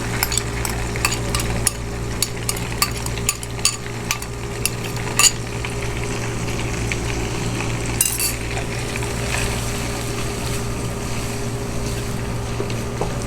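Onions go into fried spices in a pan for white mutton korma, producing a continuous sizzling hiss with scattered clicks of stirring and a brief louder burst midway, no voices.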